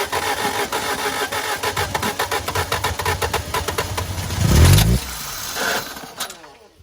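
A Saturn SC2 car engine cranks and briefly catches when given gas, producing a short loud roar that swells and then dies away, followed by quieter mechanical noise.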